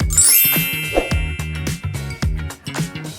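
A bright notification bell chimes at the start and rings out over a rhythmic, bouncy electronic jingle with repeating plucked notes, loud and close, with no talk.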